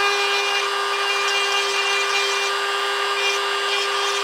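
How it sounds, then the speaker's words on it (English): A stone cone-shaped grinder works over a cast African wildcat skull, giving a constant close, loud high-pitched whine with a steady gritty grinding rasp for the whole stretch. "I'm just using the tip of this cone grinder here, the stone cone-shaped grinder."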